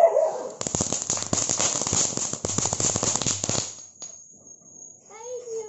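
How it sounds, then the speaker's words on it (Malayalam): A rapid chain of firecrackers bursts during Vishu celebrations at home, a dense crackling run for about three seconds over a steady high insect-like whine, followed by fainter scattered pops and brief voices near the end. "ഇപ്പൊ പടക്കങ്ങളൊക്കെ പൊട്ടിച്ചോണ്ടിരിക്കുകയാണ്."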